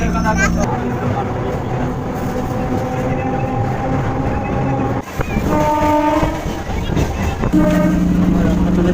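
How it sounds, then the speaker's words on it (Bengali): Local train running into Ranaghat Junction in Nadia, heard from on board as a loud steady rumble and wheel clatter, with long sustained horn blasts sounding over it, strongest toward the end. "ট্রেন এই মুহূর্তে এসে পৌঁছে গেল নদীয়া রানাঘাট"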